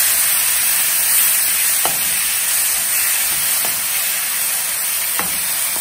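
Chopped tomatoes frying in a pan for a Bengali tomato chutney, a loud constant sizzle with three sharp scrapes of a spoon stirring at regular intervals, no voices.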